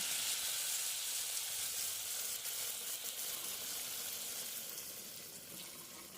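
Bread pakora fries in hot oil with a steady, even sizzle that fades slightly toward the end, heard alone without talk.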